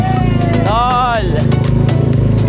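Loud motorcycles passing outside on a street, a steady droning engine roar with one rising and falling rev, heard close and continuous, with a voice speaking over it.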